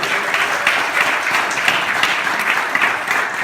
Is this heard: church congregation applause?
yes